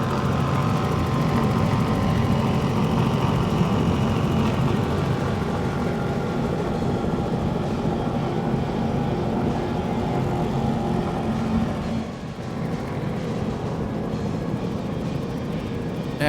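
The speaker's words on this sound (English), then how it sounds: "you've got to love the sound of these Mercury Racing 565s" Mercury Racing 565 engines on a powerboat with digital throttle and shift, a loud, steady throaty roar running continuously, easing slightly near the end.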